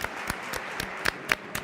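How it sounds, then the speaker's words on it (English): Sparse, separate claps in a football stadium, roughly one every quarter second and uneven in strength, as players come on at a Barcelona versus Getafe La Liga match; the claps are fairly close over low background noise. "Round of applause for Balde and for Kubarsi and for the players who are coming in."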